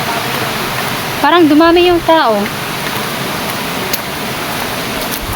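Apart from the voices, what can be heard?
river stream flowing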